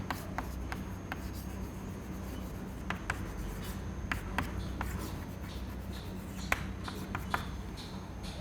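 Chalk or marker scratches and taps across a board during a fluid mechanics lecture, a series of short sharp strokes in an irregular rhythm over faint room noise.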